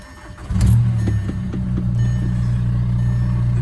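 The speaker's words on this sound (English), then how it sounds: "I just got the Jetta started up just a second ago" A Volkswagen Jetta TDI diesel engine starts up and settles into a steady, loud idle, with a low, even rumble and faint ticking carrying on to the end of the clip.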